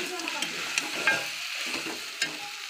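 Mutton and potatoes sauté together in a pan, an even sizzle under a few quick ladle taps and scrapes, close and moderately quiet, with no speech.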